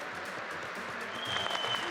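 Audience clapping through a speech at an event for artisans, a dense steady applause that swells slightly toward the end, with no voices over it.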